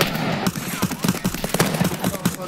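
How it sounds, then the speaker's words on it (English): Rapid gunfire in the video game Escape From Tarkov, a dense burst of repeated shots at a fast rhythm, loud and close, with faint voices mixed in. "Why are you shooting, sir?"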